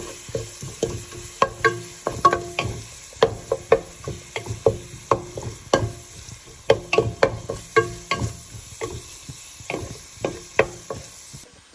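Tomatoes sizzle in a pan for crab curry while being stirred, with close, rhythmic scraping and tapping strokes over a steady frying hiss and no talking.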